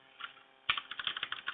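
Fast typing on a computer keyboard during live coding: a brief light tap, a short pause, then a dense run of close key clicks in quick succession.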